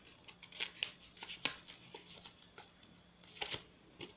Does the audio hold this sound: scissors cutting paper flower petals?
yes